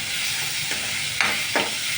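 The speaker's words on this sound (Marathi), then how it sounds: "आता हलवायचा चांगलं एकदम" Tomato frying in a pan for a home-style egg curry gives a constant hiss, broken by a few short scrapes of a spoon stirring.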